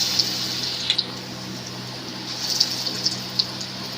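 Potol and prawn-head fritters drop into hot oil, a steady hiss of frying with faint crackles and a few small pops, close and continuous without talk.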